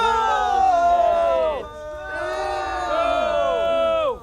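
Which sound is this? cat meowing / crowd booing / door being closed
crowd booing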